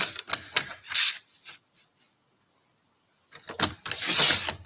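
Fabric scraps are cut into quilt pieces, giving crisp clicking, snipping bursts up close. A quick cluster comes at the start, then a quiet pause, then a second, denser run of cuts.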